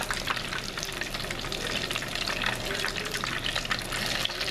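Battered seafood deep frying in a basket of oil sizzles loudly and continuously, a dense crackling hiss close up from start to finish, with a voice talking over it.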